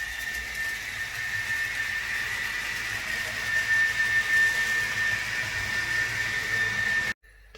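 A model train locomotive fitted with two sound chips runs with a steady electronic hum and a constant high whine, continuous at moderate level before cutting off abruptly at the very end.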